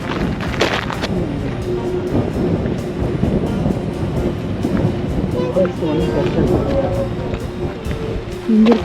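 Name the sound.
wind blowing at Mealt Falls, Isle of Skye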